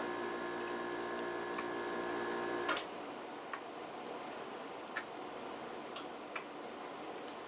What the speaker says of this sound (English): you'd use your multimeter continuity to test all of the components